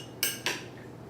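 Two quick metallic clinks of cutlery tossing a seasoned salad in a bowl, close and distinct, then quiet.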